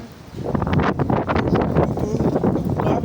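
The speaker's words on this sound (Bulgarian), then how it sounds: "Заформа се, доста тежък вятър." Strong wind gusting hard against the microphone, a loud, rough roar that surges and buffets throughout with no clear pauses.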